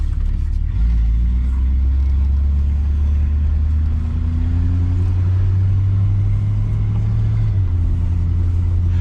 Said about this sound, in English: Riding along in my automobile, super happy to be behind the wheel.